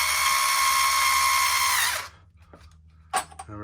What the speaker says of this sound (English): Also want to remove the 2 hinge pin brace screws.